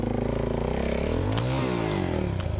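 A DRZ enduro motorcycle climbing a hill, its single-cylinder engine droning close and steady, pitch rising then falling through a rev change midway, with a couple of faint clanks.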